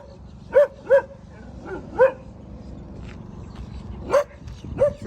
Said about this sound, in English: look, it's a big dog in there